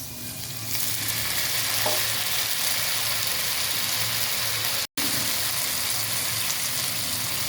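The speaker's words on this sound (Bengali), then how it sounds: "হালকা ব্রাউন করে ভেজে নিয়েছি এখন দিয়ে দিচ্ছি সয়া সস" Vegetable manchurian fries in a pan as soy sauce goes in, giving a steady, close sizzle that runs without pause apart from one brief dropout, with no talking.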